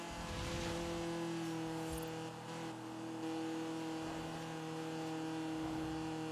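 A small Fiat car's engine in a racing video game, Forza, drones steadily at a constant pitch, with faint tire noise and no talking.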